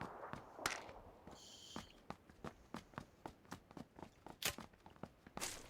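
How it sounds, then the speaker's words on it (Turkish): Footsteps in the battle royale game PUBG Lite fall in a steady rhythm of about a dozen crisp, fairly close steps, with a brief scrape near the start and no voices. "Evet ayak sesini duydum."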